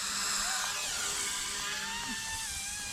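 A Blade Infusion RC helicopter fitted with a MicroHeli aluminum three-blade head and swashplate hovers close by, giving a high, smooth electric whine with shifting pitch over a steady rotor buzz.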